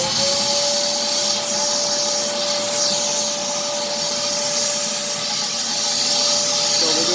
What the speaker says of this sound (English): let's take our little device here and vacuum it and see how it comes out.